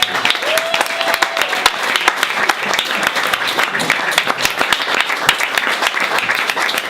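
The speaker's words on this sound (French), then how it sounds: "Je voudrais qu'on fasse un tonnerre d'applaudissements s'il vous plaît" An audience at a poetry club event in Paris breaks into a thunderous round of applause, with close, sharp individual claps over a steady roar of hands lasting the whole stretch.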